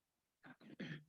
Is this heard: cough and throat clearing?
yes